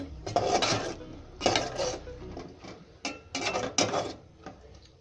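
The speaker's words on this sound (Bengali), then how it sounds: "এই তরকারিটা নেড়ে চেড়ে নিচ্ছি।" A pan of catfish and potato curry is stirred with a metal utensil: four or five close scraping, clattering strokes against the pan, each a short burst with small pauses between.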